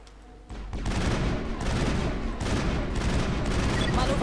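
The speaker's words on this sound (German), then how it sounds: "Manowai steht unter Dauerbeschuss." Sustained rapid gunfire from a firefight in the video game Mass Effect, loud and continuous bursts rolling without pause after a brief quieter opening.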